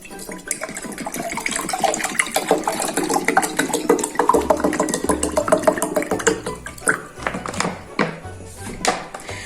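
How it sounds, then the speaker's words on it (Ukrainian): Cold water is poured into a small glass jar during a children's snow experiment, a continuous splashing, gurgling stream that is close and fairly loud for several seconds. "А у баночку з синім кружечком холодну налию."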